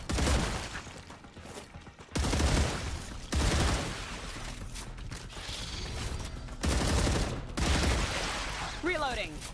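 Video game gunfire in StarRupture crackles in repeated bursts, loud volleys of shots separated by brief pauses, with a faint voice briefly heard near the end.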